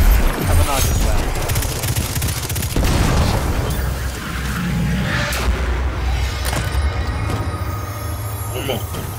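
Grenade explosion in Destiny 2, a heavy low boom rumbling under continuous game noise and loud rumbling action, with a voice talking over it.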